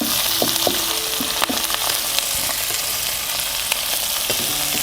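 Sardines frying in a pan, a loud continuous sizzle with scattered small pops and crackles close by.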